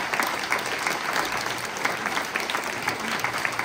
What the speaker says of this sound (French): Je vous prie donc d'applaudir Magali Prévost, la directrice artistique du